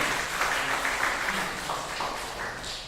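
A group applauds with steady clapping that fades gradually toward the end.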